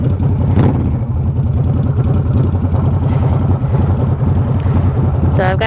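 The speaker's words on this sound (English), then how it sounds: "right now I'm riding on a 2008 Honda Shadow 750" A 2008 Honda Shadow 750 C2 motorcycle runs steadily throughout with a loud, continuous low engine drone, heavy wind buffeting the rider's helmet microphone over it.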